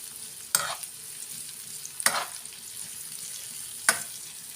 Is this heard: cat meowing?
no